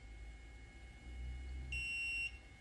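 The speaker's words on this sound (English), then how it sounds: "it's just one quick beep when you first pull the trigger" A single sustained electronic beep from a MobileX portable X-ray generator as the trigger is pulled, steady and clear, lasting about half a second over a low background hum.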